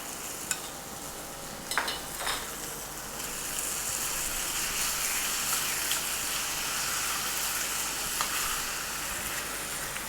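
Chicken frying in a pan with barbecue sauce added hisses in a steady sizzle that grows fuller partway through, with a few sharp stirring clinks early on and no voices.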